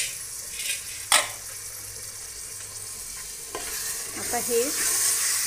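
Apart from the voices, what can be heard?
chickpeas (chole) sautéing in a pan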